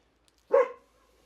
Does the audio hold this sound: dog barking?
yes